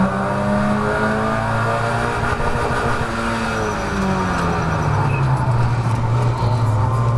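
Mazda MX5 race cars lap Croft circuit, engines droning loudly and continuously, with the pitch sliding downward as a car passes and shifts, and the roar staying near throughout.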